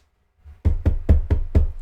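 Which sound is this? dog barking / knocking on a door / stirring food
knocking on a door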